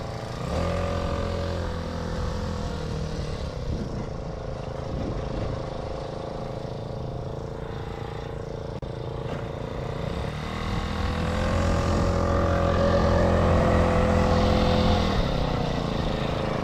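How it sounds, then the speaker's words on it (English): A Blaze 49cc gas scooter engine runs continuously with a steady buzzing drone that rises slightly in pitch and loudness toward the end. "So I'm about to turn down the idle again."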